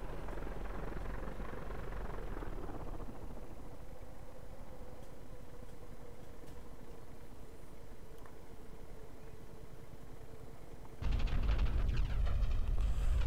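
Steady engine drone of a light aircraft coming in to land near St Maarten, a continuous loud hum with wind roar that swells louder toward the end as touchdown nears.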